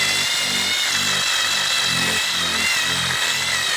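A power drill spins a steel wire brush inside a golf club hosel, giving a steady, loud whirring grind with rhythmic pulsing scrapes throughout.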